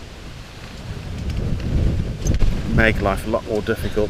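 Gusty wind sweeps across an outdoor golf croquet lawn at a women's world championship, buffeting the microphone with low, uneven rumbling surges beneath ongoing commentary.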